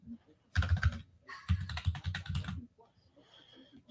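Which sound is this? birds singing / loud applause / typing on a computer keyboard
typing on a computer keyboard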